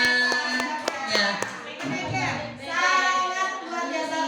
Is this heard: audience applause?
yes